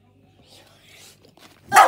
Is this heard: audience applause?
no